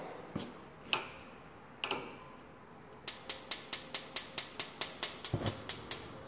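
Gas stove burner igniter in a kitchen snapping in a rapid, even series of about a dozen sharp clicks, preceded by a few separate clicks, close and crisp against quiet room noise.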